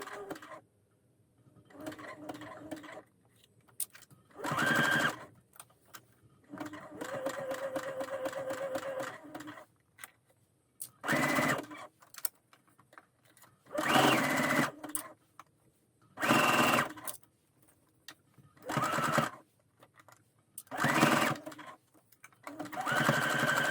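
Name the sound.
sewing machine stitching a sweatshirt cuff to the sleeve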